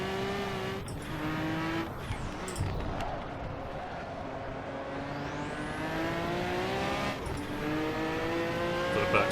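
Turbopanzer car driven in Assetto Corsa, a car built for straight-line speed: a loud engine drones steadily, its pitch climbing and dropping through gear changes, with short tire squeals and skids scattered across the run and no talk.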